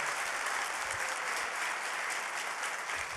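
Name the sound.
congregation applauding in church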